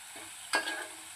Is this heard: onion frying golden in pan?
yes